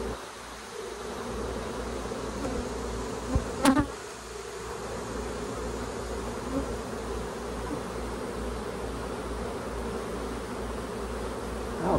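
Honeybees buzz continuously around an open hive during an inspection, a dense steady drone close by, with a brief sharp knock partway through.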